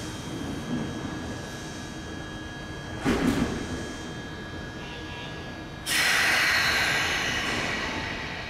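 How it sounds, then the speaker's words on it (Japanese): Nagano Electric Railway 1000 series train doors slide shut with a short whoosh, then a loud pneumatic hiss and rumble follows, heard from nearby on the platform. "ドアを閉めるときはこんな感じです"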